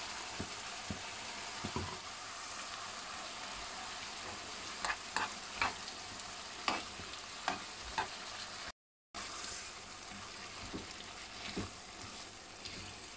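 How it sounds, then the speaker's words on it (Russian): Food with sour cream sizzles quietly in a pan as a spoon scrapes and clicks against it in irregular strokes, with a brief dropout midway. "Перемешиваем,"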